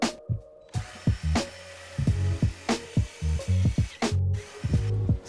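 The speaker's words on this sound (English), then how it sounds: "The next step is to use our jig and drill." A power drill bores pocket holes into wood through a jig, making repeated short bursts of whirring and grinding, each a second or less, close up, with brief pauses and clunks between them.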